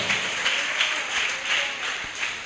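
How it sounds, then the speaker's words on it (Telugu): A church congregation at Sunday Easter worship claps together in steady waves of applause, rising and falling in rhythmic pulses, fairly close and with no talk over it. "చప్పట్లు కొట్టి యేసయ్య నామాన్ని గణపరుద్దాం"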